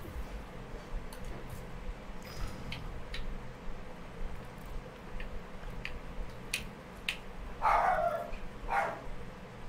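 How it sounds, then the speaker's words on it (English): A dog barks a few times in the background, somewhat distant and moderately loud, sharp yips clustered near the end over a steady room hum. "my dog's going crazy"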